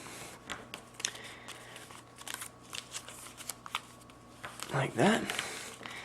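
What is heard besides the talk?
folding paper airplane wings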